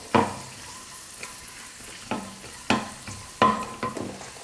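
Cashews and raisins fry in ghee for pineapple kesari, giving a soft steady sizzle broken by several sharp stirring scrapes and clinks spaced a second or so apart, with no talking.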